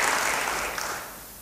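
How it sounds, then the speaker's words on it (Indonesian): Church congregation applauding during a sermon, a burst of clapping from many hands that starts strong and gradually fades over a second and a half. "Beri tepuk tangan yang baik bagi dia."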